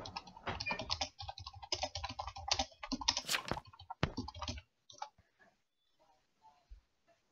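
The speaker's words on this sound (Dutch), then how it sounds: "wie zijn toetsenbord was dat?" Rapid computer keyboard typing, loud and close, in dense bursts for about four seconds, then tapering to a few scattered faint clicks before silence.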